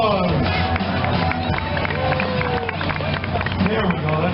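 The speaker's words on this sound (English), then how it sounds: "join me on stage to this big round of applause?" At a county fair, an audience cheers and applauds as a volunteer walks onto the stage, a loud, sustained wash of clapping and crowd noise with voices mixed in.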